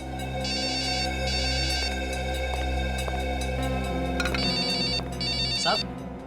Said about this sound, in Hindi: सर आपका मोबाइल बज रहा है क्या?